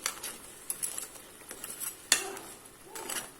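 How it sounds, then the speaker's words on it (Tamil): A spoon stirs crab gravy in a metal pot, scraping and clinking against the sides in a run of uneven, close knocks with one sharper clank midway, with no talking. "நண்டை போட்டு லைட்டாக கொஞ்சம் கிண்டி விட்டுக்கோங்க."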